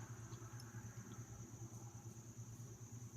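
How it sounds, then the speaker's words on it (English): Traffic from cars passing outside an open window forms a steady low rumble beneath the room, continuous and moderately faint throughout, with no talking. "You can hear the cars drive by."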